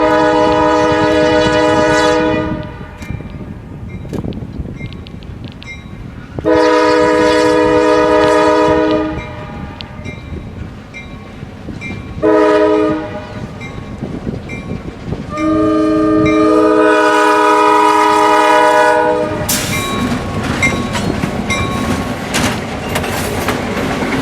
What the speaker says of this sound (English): as the now all hopper train takes a super elevated curve